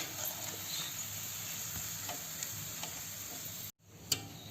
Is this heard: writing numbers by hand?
no